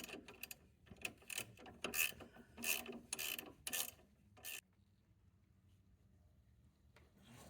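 Ratchet tightening a sway bar link on a 2012-or-later Tesla Model S: a run of close, sharp clicking ratchet strokes in uneven bursts for about four and a half seconds, then quiet.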